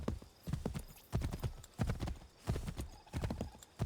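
A horse gallops in Assassin's Creed 3, its hooves striking in quick, rhythmic clusters of clip-clop beats, fairly quiet and alone.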